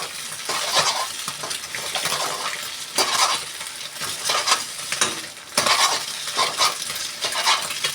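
An egg fries in a pan for egg fried rice while a ladle chops and breaks it up, a loud, continuous sizzle broken by repeated scraping and tapping strokes of the ladle.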